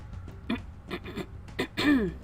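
A video game character in Pillars of Eternity 2 gives a few short, rough coughs and throat-clearing bursts, spaced apart, ending with a brief voiced exclamation.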